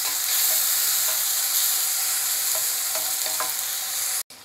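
Tomato and masala frying after onions in a pan, a loud, dense, continuous sizzle with a few faint spoon scrapes, heard up close before it cuts off abruptly near the end.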